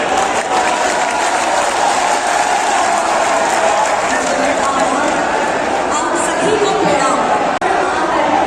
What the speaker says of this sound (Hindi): उनका तालियों की गड़गड़ाहट से स्वागत करें।